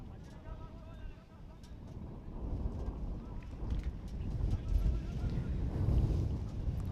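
Wind buffets the microphone at an outdoor cricket ground during a T10 match in Cyprus, a constant low rumbling roar that swells and fades, with commentators talking over it.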